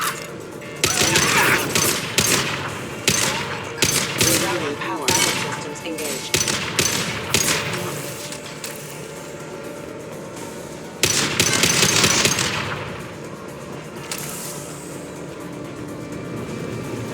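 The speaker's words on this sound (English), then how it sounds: "Firing a high-impact shot!" Heavy weapon fire in Mass Effect 2 comes in rapid, loud bursts of booming high-impact shots, repeated in a rough rhythm, with a pause and then another burst of shots fading out.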